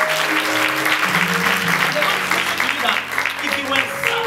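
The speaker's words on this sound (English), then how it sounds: "clap your hands to the name of the Lord" Church congregation clapping during a Sunday service at Zoe Ministries, a continuous crowd of hands beating steadily while sustained organ or keyboard tones and some voices carry underneath.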